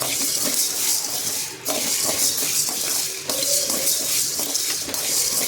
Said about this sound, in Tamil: ஒரு பேனில் வந்து எனக்கு நல்ல சிம்மிலே வச்சு ரொம்ப நேரம் நல்லாவே வதக்குங்க